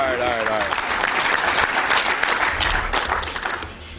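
A standing breakfast audience applauds loudly for several seconds as basketball coach Geno Auriemma is introduced, a dense steady wash of clapping with a few voices in the crowd.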